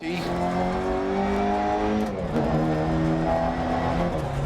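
Rally car racing in the Dirt Rally video game, a loud engine revving up through gears with rising and falling pitch, under someone talking.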